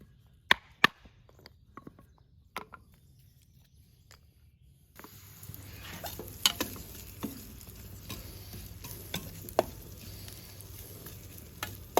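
Bacon fries on a grill rack over coals at an outdoor campfire breakfast. A soft, steady sizzle comes in partway through, broken by scattered clicks and taps from utensils.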